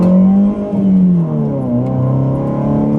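A Ford Fiesta fitted with a tuning chip accelerates, its engine note rising and shifting in a loud, continuous drone heard from close by.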